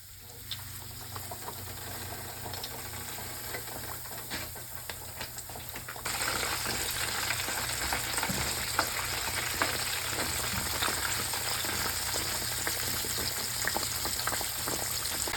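Catfish frying in hot grease in a pan, a continuous dense crackle and sizzle with scattered pops that grows louder partway through as the heat rises.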